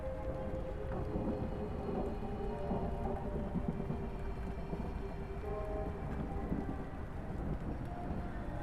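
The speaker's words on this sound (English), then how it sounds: "The rain never stops." Steady rain pours with a low, rolling rumble of thunder underneath in a video game, a continuous dense wash of sound with no voices.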